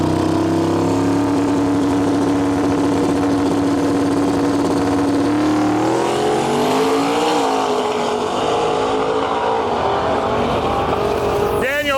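Drag racing cars, including a second-generation Camaro, roaring loudly at the line with a steady engine drone, then surging and rising in pitch as they launch down the strip, with crowd and announcer noise behind.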